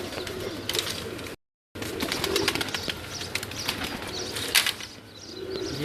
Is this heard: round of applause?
no